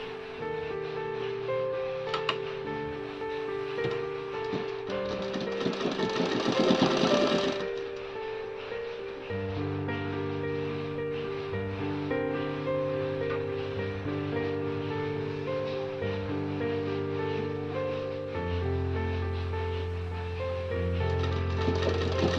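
A sewing machine stitches a hook strip onto the back of a blouse, running steadily and loudly nearby for about twenty seconds with a constant mechanical rattle, its pitch shifting partway through, and no one talking.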